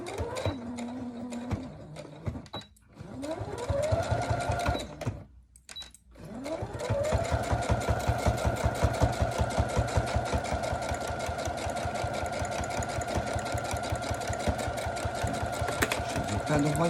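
A sewing machine stitches fabric in rapid, rhythmic bursts, starting and stopping a few times before running in a long, steady whirring stretch, close and loud.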